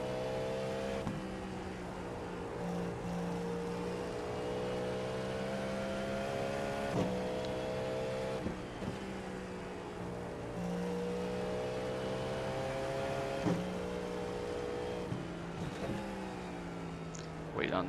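Race cars in the iRacing sim, an IMSA Cadillac V-Series.R at Canadian Tire, hold a steady engine drone with repeated downshift and upshift pitch drops, while other cars pit around it; it is continuous and loud throughout.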